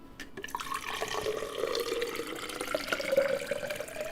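Fresh water pours into a jug in the Valheim video game, a continuous gurgling fill with a gently rising tone that lasts a few seconds, with no talking over it.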